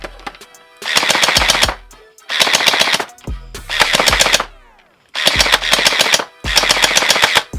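A Faction Sentinel turret loaded from an ammo hopper fires rapid automatic bursts on a range, five loud, close strings of shots separated by short pauses.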